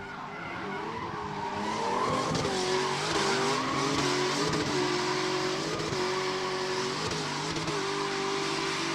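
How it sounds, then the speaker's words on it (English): Drift car on track at a drifting event, engine roaring continuously with repeated surging revs from clutch kicks and squealing tires, loud and sustained without talk. "Listen to those clutch kicks from Sarda."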